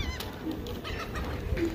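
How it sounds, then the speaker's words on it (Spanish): Seagulls calling outdoors at a beach over a steady rush of wind or surf, with a few brief cries rising above the background noise. "ahí andan las gaviotas"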